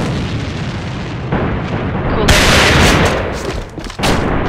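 Rapid gunfire in the AVA shooter, a dense loud stream of shots with sharper bursts near the end, heard without talk.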